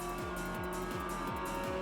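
Mazda MX-5 racing fast in a sim racing game, its engine holding a steady high-revving drone near top speed with a repeating rhythmic tire or road pulse, loud and continuous with no talking.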